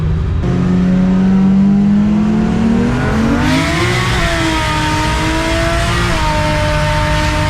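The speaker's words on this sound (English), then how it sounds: "Oh my god, is that a Supra?" A Toyota Mark IV Supra drives past loud and close, its engine revving with a rising then shifting pitch as it accelerates.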